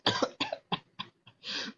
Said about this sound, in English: Hold on, I'm coughing,